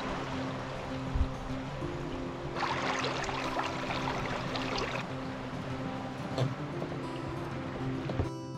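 Waterfalls along a mossy trail with boardwalks in Newfoundland give a steady, broad rush of flowing water that swells louder midway, with no talk over it.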